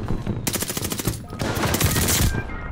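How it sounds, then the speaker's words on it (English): Tommy gun submachine gun firing in Call of Duty Vanguard, a fast continuous rattle of close, loud shots in two long bursts with a short gap between. "That Tommy gun is just ridiculous."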